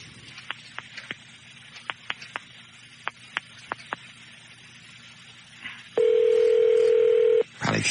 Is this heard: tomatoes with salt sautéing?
no